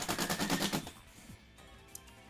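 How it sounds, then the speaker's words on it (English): Penguins exploding in the fighting game Vampire Savior, a rapid burst of repeated popping blasts in quick rhythm that cuts off after about a second, leaving a quieter game backdrop. "The penguins explode."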